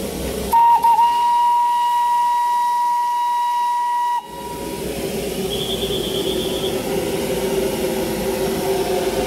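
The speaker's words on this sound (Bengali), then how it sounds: "এখন স্টিম ইঞ্জিনটাকে নিয়ে এসে বগির সাথে লাগানো হচ্ছে।" A Darjeeling toy train steam locomotive lets out a long, steady, loud whistle for several seconds, then gives way to a broad, continuous hiss of escaping steam.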